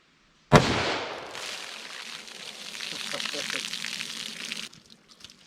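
A .357 Magnum Underwood Xtreme Defender round fires into a test medium of denim and a bologna pack, giving one sharp, loud report followed by a long, noisy echoing decay that fades out after a few seconds.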